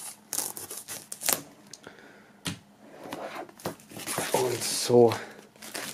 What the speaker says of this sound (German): Wir werden hier als erstes mal die Folie entfernen.